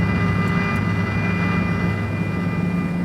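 A Hercules transport plane at RAF Brize Norton, a steady loud droning engine hum with a low throb and a whining tone, continuous throughout with no voices.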